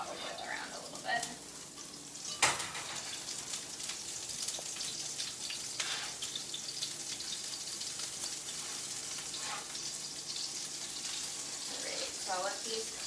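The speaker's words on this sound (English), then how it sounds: "So I'll let these cook." General Tso's meatballs frying in oil, a soft, steady crackle and sizzle with bursts of popping, a sharp knock near the start, and a person talking over it at times.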